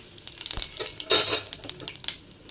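Peanuts roast in a pan for puliyogare gojju, giving light rattling, scraping clatter and brief sizzle bursts as they are stirred, close by and irregular.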